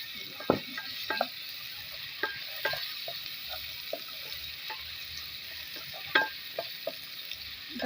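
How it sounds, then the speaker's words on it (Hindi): Garlic and ginger paste fries with browned onions in a pan, a soft continuous sizzle broken by repeated scraping and clacking of a spoon stirring at an irregular rhythm, with no talking. "अब इसके अंदर मैं लहसुन और अदरक का पेस्ट जो बनाया था ना वो डालूंगी और थोड़ा सा इसको ब्राउन करूँगी साथ।"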